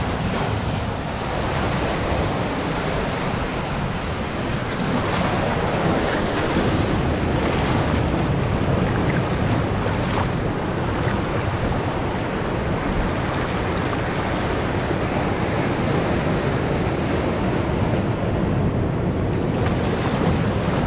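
Ocean waves wash steadily onto a beach on a small peninsula island at Nusa Dua, Bali, making a loud, continuous surf roar with some wind buffeting the microphone and no voices.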